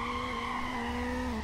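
Tires screech in a long, steady squeal during a drift race in Need for Speed: Underground, with a high engine whine running alongside at a constant loud level throughout.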